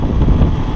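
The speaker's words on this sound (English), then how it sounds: "Here comes the wind now." Wind blows during a first snow clearing with a John Deere 54-inch snow blower on an X724 tractor, a short steady rumbling gust buffeting the microphone.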